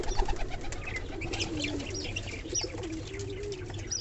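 Fancy pigeons coo in soft repeated phrases after bathing, close by, with faint chirps and light rustling in the background.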